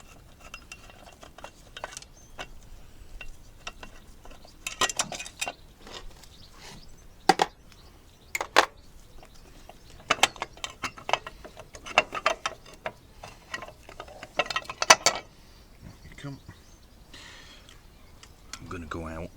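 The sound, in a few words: ratchet working on Lifan motorcycle chain sprocket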